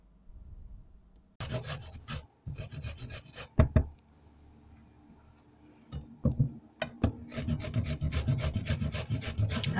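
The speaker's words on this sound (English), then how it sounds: "Now with this grater, we are grating our carrots as much as we need for our mixture." Carrots are rubbed against a kitchen grater in bursts of rough, raspy scraping strokes, close and fairly quiet, separated by short pauses, with faint background noise between them.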